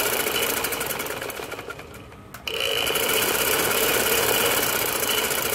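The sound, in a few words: sewing machine stitching a ladies kurti seam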